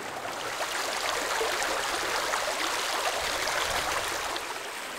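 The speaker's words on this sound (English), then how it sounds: "set the camera up really low so I've got as much of this stream in the foreground as possible" A shallow stream flows beneath an ancient bridge, a continuous close rush and babble of water at a steady level with no voices.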